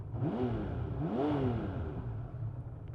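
A 1979 Honda CBX1000 motorcycle engine revs up twice in quick rising swells, then settles to a rough idle, close by and fairly loud.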